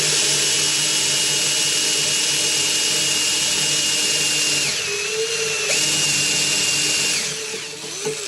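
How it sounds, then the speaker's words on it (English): A power drill bores steadily into a steel motor shaft lubricated with cutting fluid, part of a 4DOF simulator motor mount. The loud, close, continuous whine shifts pitch midway and eases off near the end. "you are wanting to get your drill bit in 20 millimeters"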